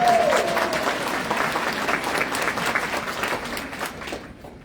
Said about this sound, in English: Give yourselves a great big hand. That wasn't nearly enough applause for yourself.